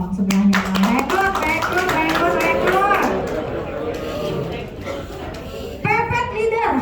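An audience at a recruitment-focused leadership seminar claps rhythmically together, the dense handclaps running under a loud speaking voice that carries over most of the stretch.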